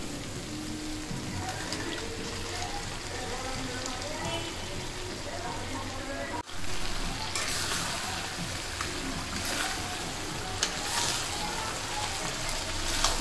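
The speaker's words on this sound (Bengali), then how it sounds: "তো আমি একটু নেড়ে চেড়ে এবার দিয়ে দেব ভাজা চিকেনগুলো" Fried chicken pieces for chicken chaap go into hot oil in a pan, giving a dense, steady sizzle that runs throughout, dipping for an instant midway before returning slightly louder.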